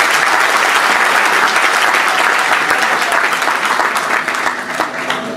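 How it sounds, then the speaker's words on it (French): An audience claps in thick, sustained applause, loud and close, tapering slightly toward the end. "Applaudissez pour vous."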